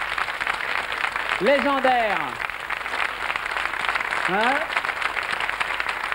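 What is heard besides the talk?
studio audience applause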